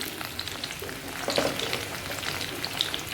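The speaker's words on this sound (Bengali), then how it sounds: "ফুলকপি দিয়ে দিই" Cauliflower pieces dropped into hot oil with panch phoron and green chilli, frying in a steady close sizzle with a few sharp pops and stirring scrapes, no talking.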